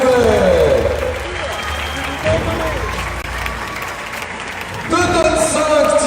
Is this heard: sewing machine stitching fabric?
no